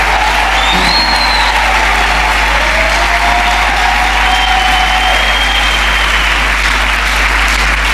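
A church congregation breaks into loud, sustained applause and cheering for God, a thick, even roar of clapping with faint whoops and a low steady hum beneath it.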